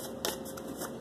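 Tarot cards shuffled for a daily reading: a brief, soft riffle of cards, close but quiet, about a second long.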